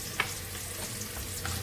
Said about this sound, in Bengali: চালটা ভেজে নিচ্ছি বিরিয়ানির জন্য।